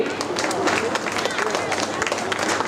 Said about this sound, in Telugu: గట్టిగా చప్పట్లు ఒకసారి.